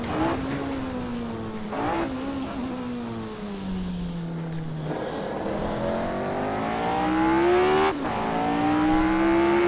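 A small four-cylinder prototype race car engine from the AC Legends mod in Assetto Corsa drones steadily and climbs in pitch through the gears, with sharp shift breaks near two and eight seconds and no voices.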